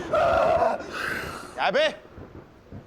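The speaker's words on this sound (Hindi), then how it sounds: "यहाँ पर आके क्यों छींकता है इतनी जोर से?" A man lets out a loud, sharp sneeze that ends in a brief voiced tail, set between short stretches of talk in a comic indoor scene.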